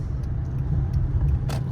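A 2012 Hyundai Sonata with the 2.5 engine drives along, giving a steady low road rumble and engine drone heard from inside the cabin, with faint light rattles.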